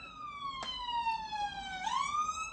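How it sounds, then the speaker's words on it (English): A police siren wails outside, its sweeping tone gliding down and then swinging back up as it passes, moderately distant under a steady background hum. "Let that siren go."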